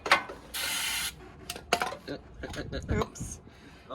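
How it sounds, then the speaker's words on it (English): Short hissing burst of anti-seize sprayed from an aerosol can during a Dana 44 axle swap on a Jeep JL Sport, followed by metallic clinks and tool rattles. "that's one downfall to spray anti-seize in a can"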